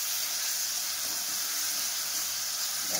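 Onions frying in a pan with spices, garlic, ginger, cumin paste and chilli, a steady close sizzle and hiss running evenly throughout with no talk.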